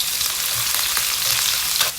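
Garlic frying in oil gives a dense, continuous sizzle with spattering crackles throughout, loud and close with no talking.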